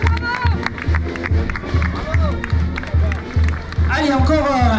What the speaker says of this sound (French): Applaudissements à Nicolas Lemont.